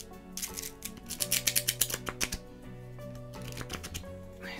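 A sticky oracle card deck being shuffled by hand makes a quick run of crisp, rhythmic riffling clicks that peaks midway, then gives way to softer rustling and a few scattered taps, close and with no voice.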